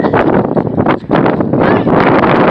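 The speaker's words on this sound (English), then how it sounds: "it's very windy and dusty." Strong wind roaring and buffeting the microphone close up in loud, gusty bursts with a brief dip, no voices.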